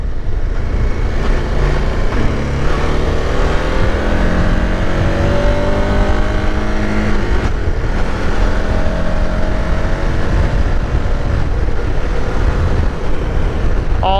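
A 2023 KTM 1290 Super Adventure S motorcycle engine drones steadily throughout the ride, its pitch rising and falling through gear changes, loud and close with constant wind rush over it.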